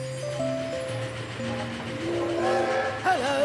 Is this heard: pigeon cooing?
no